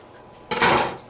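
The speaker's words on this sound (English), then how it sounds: "We'll dump this into a bowl so that people can put them in their own bowls of menudo" Cooked menudo dumped into a bowl: a single short clattering, sloshing burst up close, rising suddenly after a quiet start and fading within about half a second.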